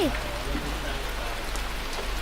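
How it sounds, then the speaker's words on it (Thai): Heavy rain falls in a video game as a dense, continuous hiss of drops on surfaces that holds a steady level throughout. "ฝนตกหนักมาก"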